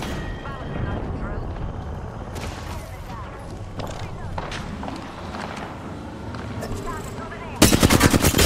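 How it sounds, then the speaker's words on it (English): Automatic gunfire from an Apex Legends match, with Wraith wielding an R45 pistol: rapid repeated shots and clatter run throughout under game noise and speech, ending in a louder, denser burst of fire. "Being shot at."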